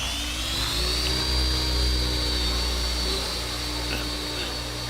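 A radio-controlled helicopter's motor running at its lowest stock RPM, a steady close whine with a constant high pitch and low droning hum, sustained without pause for the whole stretch.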